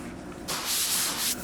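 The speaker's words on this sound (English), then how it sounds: "we're continuing the process, sanding the wall, preparing the area" Sanding across a skim-coated drywall wall gives a close, breathy abrasive rasp that swells in the middle of the stroke, then eases back to a softer rub; no talking.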